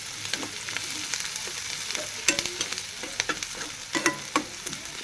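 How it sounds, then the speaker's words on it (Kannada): Onions fry in a pan with a steady low sizzle, broken by sharper scrapes and clatters of stirring that come at irregular intervals, close by with no talking. "ನೋಡಿರಿ ಇವಾಗ ಉಳ್ಳಾಗಡ್ಡಿ ಫ್ರೈ ರೀ"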